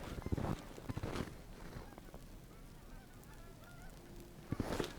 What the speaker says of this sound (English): Big line of geese coming over.